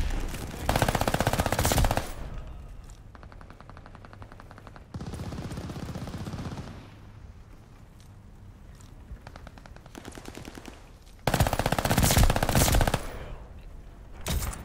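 Rapid automatic fire from an Armaguerra 43 in Call of Duty: Vanguard comes in several sustained loud bursts separated by quieter stretches of lighter shooting and game sounds.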